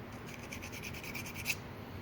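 Steady scraping rub on a marred threaded rod being cleaned up after cutting to size, a soft continuous rasping texture with a brief louder stroke near the end, close and fairly quiet.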